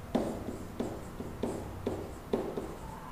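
A marker writing on a classroom board during a maths lesson: a series of about six short scratchy strokes in an irregular rhythm, close and fairly quiet, with no talking.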